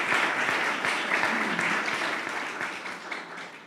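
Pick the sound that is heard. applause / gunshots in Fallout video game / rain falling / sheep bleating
applause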